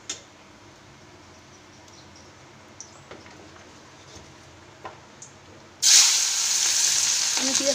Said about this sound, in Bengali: লাল লাল ভাজা করে নিয়ে পেঁয়াজটা দিয়ে দেবো